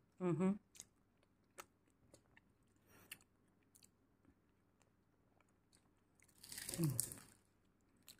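Someone eats crunchy bean sprout spring rolls (lumpiang togi), with two brief close crunchy bites separated by quiet moments and faint small mouth sounds.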